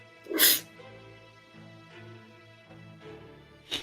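A single loud, sharp sneeze bursts out near the start, followed by quieter low murmuring and a brief second burst at the end, heard close up in a room.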